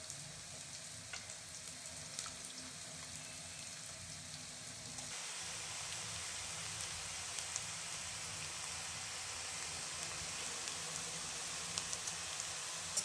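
Raw onions fry in a pan for rohu fish do-pyaza, giving a steady broadband sizzle that grows slightly louder partway through, with faint crackles and no talk.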